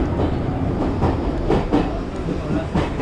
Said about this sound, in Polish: no jedziemy metrem